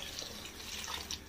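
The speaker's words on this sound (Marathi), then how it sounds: "1 तांब्या पाणी घालते." A jug of water is poured into a pot of roasted rice for white pulao, producing a soft, continuous splashing stream close by that stays fairly quiet throughout.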